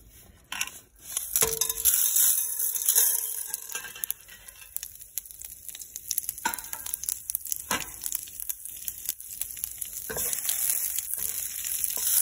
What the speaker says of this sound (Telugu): నూనె కాగాక అన్నీ వేసేస్తున్నాను. ఆవాలు, జీలకర్ర, మినపప్పు అన్నీ వేసేస్తున్నాను.